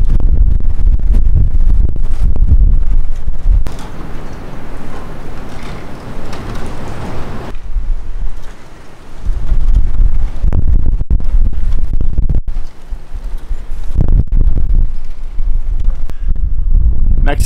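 Strong gusty, sand-blasting wind in Baja, Mexico buffets the microphone with loud low rumbling, easing briefly in places before roaring back, with some faint voices mixed in.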